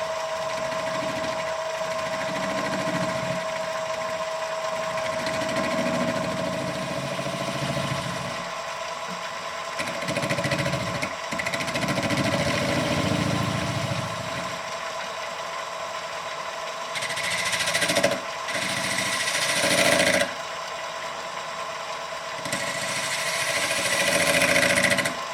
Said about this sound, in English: We're going to take our smallest spindle gouge and bevel this hole.